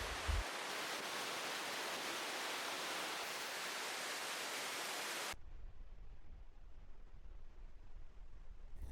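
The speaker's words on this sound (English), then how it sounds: "Yay, a waterfall." A waterfall on a solo hike in Costa Rica roars as a steady, dense wash of falling water, loud and unbroken for about five seconds before dropping abruptly to a softer, more distant rush.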